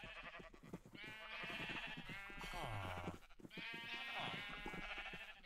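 Several Minecraft sheep bleat repeatedly in long, wavering cries, layered and fairly close, with little pause between calls.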